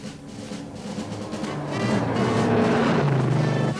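A 1971 AMC Javelin with the 401 engine accelerating hard on a test run, its loud engine note climbing and swelling steadily as it pulls away.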